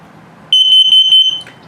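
A 2021 Crossroads Sunset Trail 331BH RV's carbon monoxide and LP gas detector runs its self-test, giving a loud, piercing alarm of about five rapid pulsed beeps close by, then a brief chirp.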